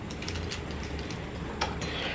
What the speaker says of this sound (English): Okay, door locked.